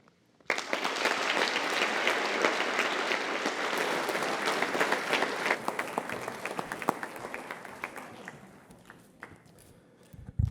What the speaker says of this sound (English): For our final applause